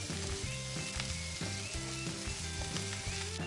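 Sliced onion frying in oil alongside ginger and garlic makes a continuous, dense sizzle, fairly close and even throughout, with a low steady hum running underneath.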